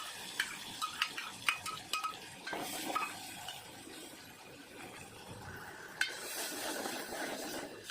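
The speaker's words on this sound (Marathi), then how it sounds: "ह्याला हलवून व्यवस्थित मसाल्याला पण परत एकदा फ्राय करायचं" Masala stirred and fried in a pan with a little oil: repeated light metallic taps and scrapes of a spoon against the pan over a faint, low sizzle, close and quiet.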